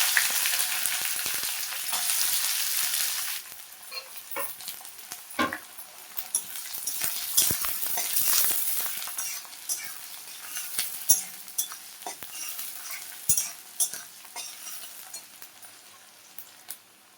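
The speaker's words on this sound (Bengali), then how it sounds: "এখন আমি পেঁয়াজ দিয়ে দিলাম" Chopped onions sizzle and spit in hot oil in a pan while being stirred for a Sunday chicken kosha, a steady frying hiss with scattered scraping and stirring clicks throughout, close and fairly loud, with no voices.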